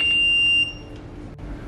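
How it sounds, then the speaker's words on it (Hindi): The continuity buzzer on an HTC CM 2007 clamp meter sounds a steady high-pitched electronic tone while testing a wire, then cuts off abruptly, leaving quiet background hiss. "तो इस तरह से बज़र काम करेगा।"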